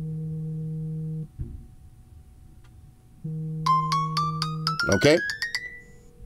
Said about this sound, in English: this is what it's going to look like when you're getting a phone call.